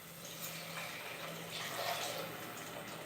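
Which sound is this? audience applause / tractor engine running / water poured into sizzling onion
water poured into sizzling onion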